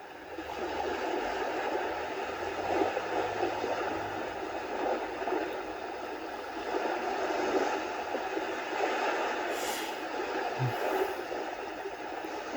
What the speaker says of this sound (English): how about little sea wave?